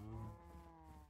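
Cows mooing in Minecraft, a low drawn-out bovine call with strong harmonic tone, loudest at the start and trailing off over about a second, heard alone and up close.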